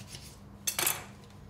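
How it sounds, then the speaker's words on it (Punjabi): A spoon scrapes and clinks against a bowl while avocado salsa with black pepper, green chili and lemon is mixed, a few brief close clatters in a quiet room. "again mix it well"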